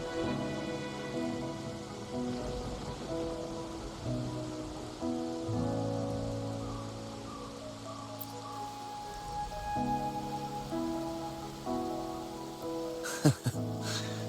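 Steady rain falls throughout a night scene in the video game Wuthering Waves, a soft continuous patter beneath sustained musical tones, with a brief sharp sound near the end.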